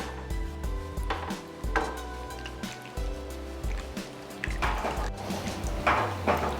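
A wooden spatula stirs a chicken and apricot stew in a pot, producing close, irregular wet squishes, scrapes and soft knocks against the pot with no talk.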